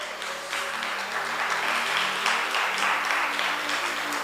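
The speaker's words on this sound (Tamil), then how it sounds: "நல்ல கைத்தட்டி கர்த்தரை ஸ்தோத்திரம் பண்ணுங்க" A church congregation claps hands in praise during a Tamil sermon, a dense, steady wash of applause from many people lasting several seconds without talk over it.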